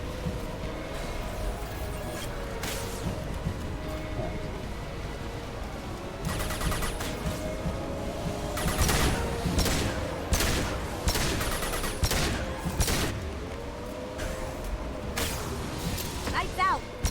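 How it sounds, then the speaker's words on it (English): Bursts of SMG gunfire ring out in the sci-fi action game Mass Effect 2, rapid cracks layered with combat effects and mechanical noise, while someone talks over the action throughout. "This is the SMG, I thought it was a pistol."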